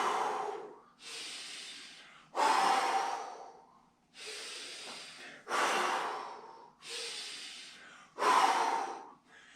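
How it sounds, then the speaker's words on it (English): Deep breathing during a dryland strength workout, with slow alternating inhales and exhales in steady loud rushes of air, about seven breaths, close to the microphone and without talk. "you should be taking full deep breaths here"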